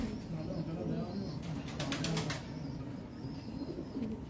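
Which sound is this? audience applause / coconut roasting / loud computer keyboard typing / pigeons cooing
pigeons cooing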